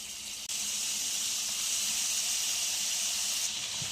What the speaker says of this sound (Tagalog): Ito po, nagtira po tayo ng konting mantika, tapos ilalagay na po natin yung margarine.